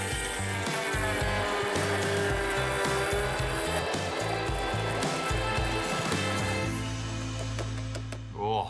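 A kitchen blender runs continuously at close range while making Mexican flank steak tostadas, a loud steady motorized whir with a fluctuating pitch that winds down near the end.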